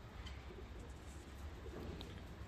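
Decorative show pigeons of a fancy costume breed, including a black-crested pair, coo softly in a loft, low murmuring calls repeating steadily under a constant background hum.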